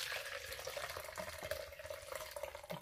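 Water from a cooked homemade weight-loss drink being strained off, giving a soft, steady trickling and splashing that runs faintly for a few seconds, with no talking.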